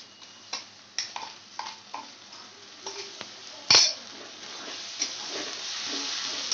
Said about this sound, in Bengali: আদা, কাঁচা লঙ্কা আর রসুন একসাথে দিয়ে দিলাম আমি পেস্টটাকে।